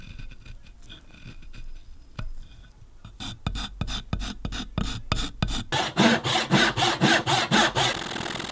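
A handsaw cuts through the tops of wooden stool legs in walnut or maple, starting with a few faint scrapes and building into a steady, loud back-and-forth rasp of close strokes.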